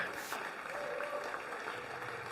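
A played applause sound effect, a steady crackle of clapping lasting a couple of seconds at moderate level, heard faintly in a chat setting.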